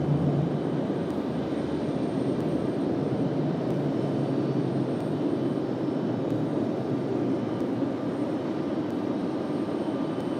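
A Breeze Airways jet taxis at Raleigh-Durham airport, its engines producing a steady, loud broadband roar that holds level throughout with no voices.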